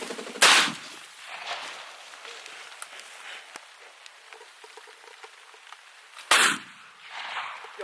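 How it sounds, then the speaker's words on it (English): Two sharp, loud shotgun blasts while pheasant hunting at a game farm, spaced several seconds apart outdoors, each with a short echoing tail and quiet between. "what did I say about shooting them on the ground?"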